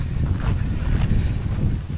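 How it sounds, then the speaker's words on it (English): Strong wind buffets the microphone outdoors, a steady loud roar and rumble that continues without break and with no voices. "It's very windy."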